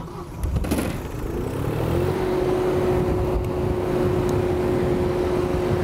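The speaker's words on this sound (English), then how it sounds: "Go ahead, start up our engine." An engine driving a Frontier 400X pipe welding unit starts up: a brief cranking burst catches, then the revs climb into a steady, loud droning hum that holds to the end, with no talking.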